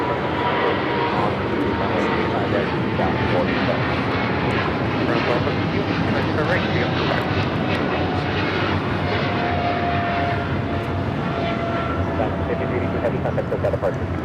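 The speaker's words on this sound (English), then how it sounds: "This is China Airlines Cargo 5382 taking off to Miami on the 777 freighter" China Airlines Cargo Boeing 777 freighter taking off at LAX, a loud continuous roar of jet engines with broadband rumble holding steady throughout, while a voice talks over it.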